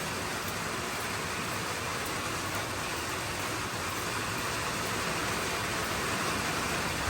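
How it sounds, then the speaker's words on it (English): Steady, dense rain pours outdoors around a car during a wheel-cleaner demonstration, a loud constant broadband hiss with no breaks or voices. "Sorry about the rain, y'all"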